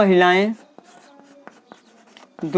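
Marker or chalk writing on a classroom board during a maths lesson: a series of short, light taps and squeaky strokes, close and fairly quiet, bracketed by someone speaking at the start and end.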